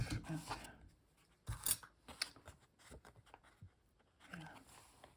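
A few quick close snips, likely scissors cutting something off after it is secured, come in short bursts separated by quiet gaps, with some soft rustling between.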